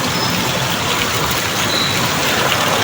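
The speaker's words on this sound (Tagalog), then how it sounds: "Umulan ay pambihira." Heavy rain pours down in a steady, dense roar during a typhoon-like downpour, with tricycles parked under shelter nearby; the sound is loud, continuous and unbroken, with no voices.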